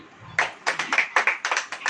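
Scattered clapping from a church congregation during a sermon, a sparse run of distinct, fairly close hand claps in uneven rhythm rather than a full ovation, with no voices over it.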